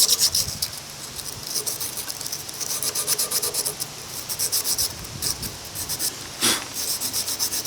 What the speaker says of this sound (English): I got some little emery paper here. We're just going to sand these